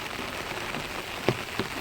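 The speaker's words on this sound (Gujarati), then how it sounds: "જો જો કેટલો બધો વરસાદ પડે" Heavy rain pours in a dense, constant hiss of drops striking surfaces, with a couple of sharper splashes standing out near the end and no voices.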